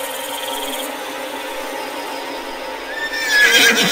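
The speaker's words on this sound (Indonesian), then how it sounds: "Sesekali terdengar suara kuda meringkik" A steady background hum carries a faint rising neigh that swells into a louder, shrill whinny near the end.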